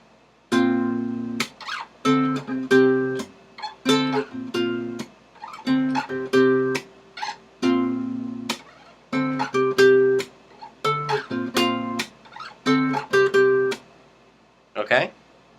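Strummed acoustic guitar plays the chorus of a song in rhythmic bursts of chords with short pauses between phrases, close and clear with no voice over it.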